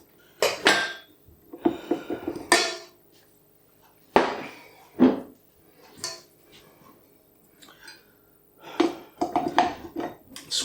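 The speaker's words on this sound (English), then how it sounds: "I'm going to scrape that off the paddle attachment." Dough being scraped off a stand mixer's paddle attachment while making sourdough pizza dough, heard as a string of sharp clattering knocks and metallic scrapes in uneven bursts, close and fairly loud, with quiet pauses between.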